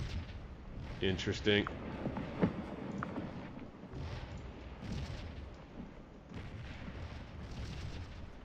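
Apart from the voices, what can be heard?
cannon artillery fire in the video game Scourge of War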